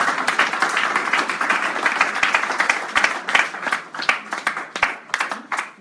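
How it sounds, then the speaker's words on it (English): A crowd claps steadily, a dense wash of applause that thins out toward the end, with a voice faintly underneath. "give the Lord a round of applause"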